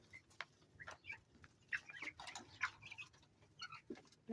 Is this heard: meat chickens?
yes